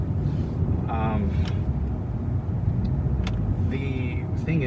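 Steady low road rumble from a car driving, with wind buffeting the microphone and a voice speaking briefly over the continuous drive noise.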